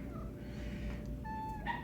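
Cat that was once a stray kitten from North Carolina meowing indoors at home, a short, faint rising meow and then a clearer tonal meow over a steady low household hum.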